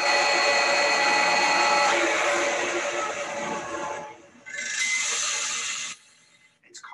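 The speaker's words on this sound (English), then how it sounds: "And the air compressor with the belt removed." An air compressor motor spins freely with its belt removed, giving a loud steady mechanical whine that dips, surges back briefly, then stops.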